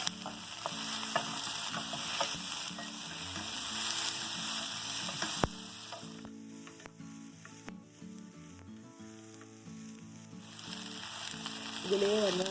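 Tomatoes sautéing in a pan for meatball gravy, a steady close sizzle and crackle with occasional stirring scrapes and soft music underneath.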